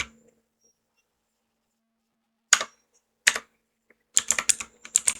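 Typing a command into a router CLI in Cisco Packet Tracer on a computer keyboard: after a pause, a few separate clicky keystroke bursts, then a quicker run of taps near the end, close and clear in a quiet room.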